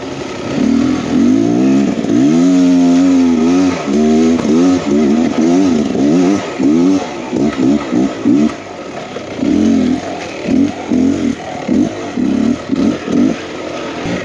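Dirt bike engines rev on a tight enduro trail, with repeated rising and falling bursts of throttle that are loud and close, then settle into choppy intermittent blips, with no voices over them.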